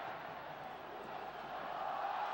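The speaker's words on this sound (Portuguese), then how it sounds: "A torcida vai pedindo o olé no Serra Dourada." A large football crowd at Serra Dourada stadium roars in a dense, steady mass of distant voices that swells slightly toward the end.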